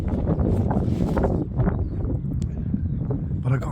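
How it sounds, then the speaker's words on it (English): Gusty wind rushes past the microphone during a morning walk outdoors, a fairly loud blustery roar that rises and dips, with a faint bird call near the end. "It's a bit windy here."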